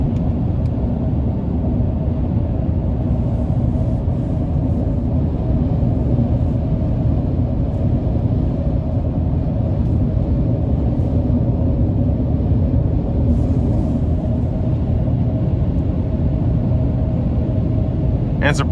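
A 2022 Chevy Silverado 1500 Trail Boss with the 6.2 engine and off-road tires accelerating on the road, a steady low engine rumble and road drone heard from inside the cab, continuous and even throughout.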